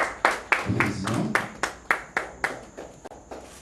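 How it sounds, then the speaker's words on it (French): Audience applause at a home reception: several bursts of hand clapping in quick, uneven succession, fairly close and moderately loud, each fading quickly. "On applaudit encore s'il vous plaît, mesdames et messieurs"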